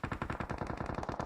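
Automatic gunfire in PUBG Mobile: a rapid, even burst of roughly a dozen shots in just over a second, punchy and close, with no talk.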